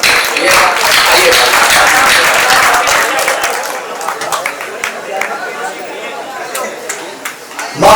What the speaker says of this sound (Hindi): आप लोग जो तालियां बजा करके